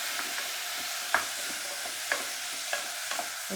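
Steady sizzling of eggplant and potato frying in a pan with turmeric and salt, a spatula scraping and stirring in soft, irregular strokes every second or so.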